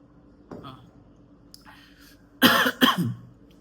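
A person nearby gives a short, loud double cough, two harsh bursts in quick succession after a brief faint throat sound, in an otherwise quiet indoor setting.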